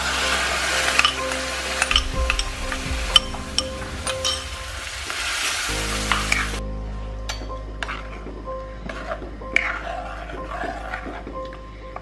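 Ground tomato paste tipped into a hot pan for tomato pickle sizzles and crackles loudly, then settles into a softer, steady fry with occasional clinks of a utensil against the pan.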